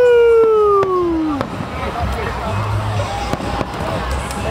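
Fireworks bursting at the Lord Mayor's display in Chapelfield Gardens, heard from a distance as scattered sharp cracks and thuds over crowd noise, with a falling whistle early on and people talking nearby.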